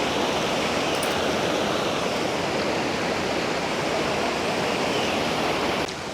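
Strong river current rushing in the Dooars region, a loud, steady broadband roar of fast-flowing water heard close and continuous throughout.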